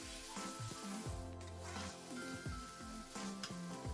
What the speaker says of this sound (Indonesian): Kemudian ayamnya ya, diaduk-aduk, kita tumis sebentar.